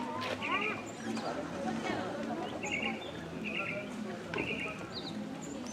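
A bird repeats short high chirping phrases on a cobbled street in Barichara, Colombia, moderately distant and recurring every second or so beneath people chatting nearby.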